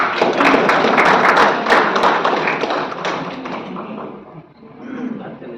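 An audience applauds a madam at an Ambedkar Jayanti gathering, steady close clapping that fills the first few seconds, then thins and fades while voices talk underneath.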